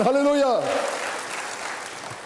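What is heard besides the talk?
congregation applauding God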